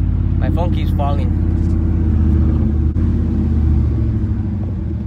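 Deep, steady rumble of a car with a new aftermarket exhaust, idling and revving close by for several seconds, with a short stretch of voice over it near the start.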